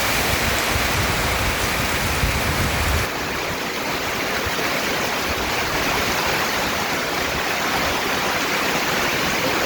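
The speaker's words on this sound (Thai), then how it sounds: "ตอนนี้ก็ฝนตกแบบนี้" Heavy storm rain pours in a dense, steady hiss that eases slightly partway through but keeps going without a break.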